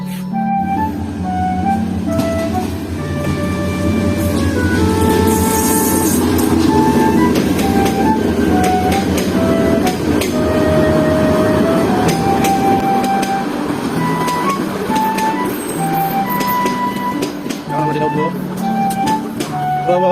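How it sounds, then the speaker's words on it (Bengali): A train pulls into a railway station on a winter night, filling the air with a loud, continuous rumble and metallic clatter under a sustained droning tone that eases slightly toward the end. "এই পিছনে আমাদের ট্রেন আসতেছে"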